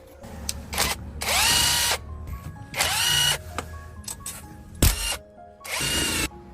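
An electric power tool whirs in several short bursts, rising and falling in pitch, as bolts are backed out of the motor of a small electric four-wheel vehicle under repair. A sharp clank falls between bursts, and nobody speaks.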